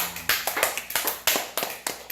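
Scattered applause from a church congregation, a sparse run of distinct, separate hand claps, fairly close and uneven in rhythm, with no voices over it.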